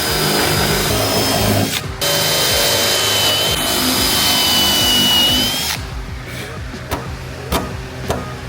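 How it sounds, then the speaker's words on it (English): A unibit step drill bores out a drilled hole on a G37 car, a loud continuous power-drill whine for about six seconds, then stops, leaving a few short taps and handling clicks. "next we're gonna use our unibit and we're gonna expand the hole."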